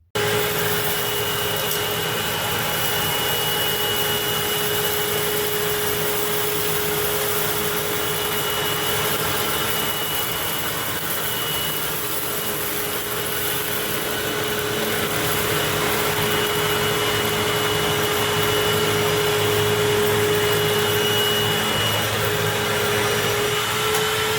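A Hoover Windtunnel UH50000 self-propelled bagged upright vacuum cleaner runs with a continuous loud motor roar and a steady tonal whine throughout a pickup test, up close and uninterrupted.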